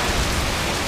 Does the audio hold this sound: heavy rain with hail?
yes